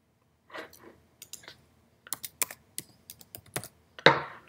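Computer keyboard keys typed in a short burst of separate clicks, close and fairly quiet, entering a field value in Salesforce setup, with a louder clack at the end.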